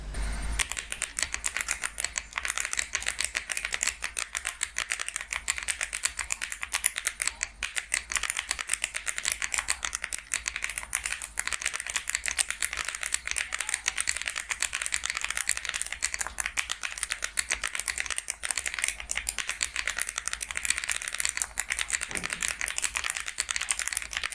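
Steady, continuous typing on a keyboard fitted with Zuoce Rococo tactile switches on an aluminum plate, a dense stream of crisp keystroke clicks running throughout without a break or any talking.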